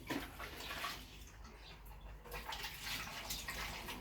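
Homemade wine poured through a cheap plastic funnel into a bottle until it overflows, a steady, close liquid splashing and gurgling that runs continuously throughout.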